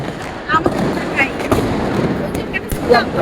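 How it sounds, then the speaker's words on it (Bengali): New Year fireworks going off across a neighbourhood at night, distant blasts and crackles popping one after another under someone talking over them. "একটার পর একটা ব্লাস্ট, একটার পর একটা ব্লাস্ট"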